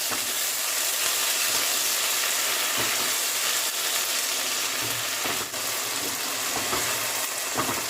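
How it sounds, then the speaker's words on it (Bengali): Salted ginger paste fries in hot oil in a pot for a vegetable labra, a dense, loud, continuous sizzle with soft stirring scrapes running throughout and no voices. "আদাটা ভেজে নেব"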